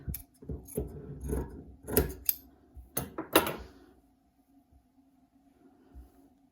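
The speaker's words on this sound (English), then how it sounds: "Just trim these little bits off." Scissors trim small bits of fabric for an improv nine-patch quilt block, with several close, crisp snips in quick bursts that fade into quiet room tone toward the end.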